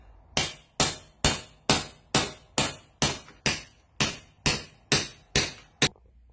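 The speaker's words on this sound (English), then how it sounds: "I am going to initially drive it in a little bit with a hammer" A hammer strikes a socket to drive a bearing into a Sea-Doo jet pump, giving twelve sharp, evenly spaced metallic blows, close and loud, with no talk.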